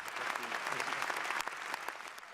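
Steady, dense applause from a large hall of climate talks delegates, sustained throughout at an even, loud level with no voices rising above it.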